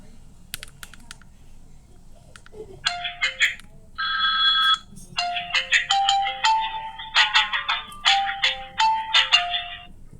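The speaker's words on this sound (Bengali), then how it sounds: "ফোনটির প্রোফাইলে ঢুকলে আমরা একটু সাউন্ডটা শুনবো যে ফোনটির সাউন্ড কেমন ছিল" A mobile phone rings with a bright, melodic ringtone, a quick run of clear electronic notes repeating steadily and fairly close for about seven seconds after a soft start.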